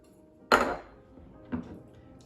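A mixing bowl set down and handled in a kitchen while pumpkin cake ingredients are being prepared, giving two short hard knocks about a second apart, the first louder with a brief ringing tail.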